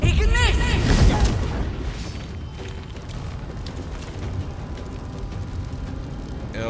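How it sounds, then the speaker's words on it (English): A Fire Bolt spell striking its target in the fantasy game Baldur's Gate 3, a loud booming impact at the start that fades into a rumbling, crackling tail of game noise. "So let's firebolt, and we will murder her right in the face."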